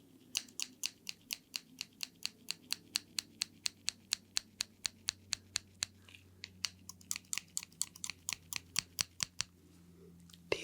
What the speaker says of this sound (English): These scissors, you're asking what they are. They're the deluxe edition.